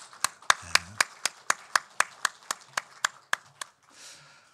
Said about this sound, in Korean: 우리 다시 한번 우리 목자 우리 성가대 격려의 박수.